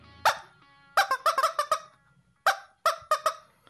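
A squeezed Chinese rubber toy chicken gives loud, harsh honking squawks, one single blast then two bursts of four or five rapid squeals separated by short silences, close up with no talk.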